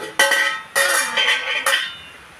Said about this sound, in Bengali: ঢাকনাটা রাখতে যাইয়ে জোরেই পড়ে গেল